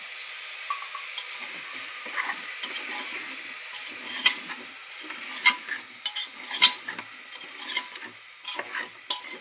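Potato, cabbage and green peas fry in a pan for a curry, giving a steady soft sizzle with scattered crackles and stirring scrapes, close and fairly quiet, with no talking.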